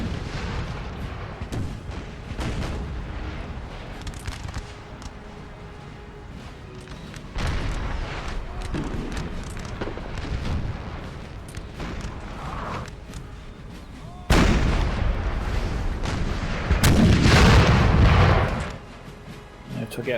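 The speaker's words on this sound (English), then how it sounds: "They are seemingly trying to target the French army. Looks to be a barrage volley." Artillery barrage in the Napoleonic battle game Napoleon Total War, a series of deep cannon booms and rumbling volleys over ongoing battle noise, with a louder, heavier burst near the end.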